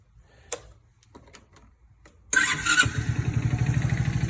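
A used kids' motorbike with a newly replaced switch assembly clicks a few times, then its small engine catches and runs loudly with a steady, pulsing idle.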